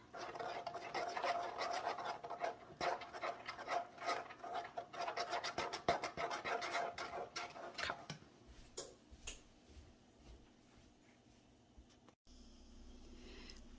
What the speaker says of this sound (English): I'm gonna grab a spoon and I'm gonna kind of stir this together.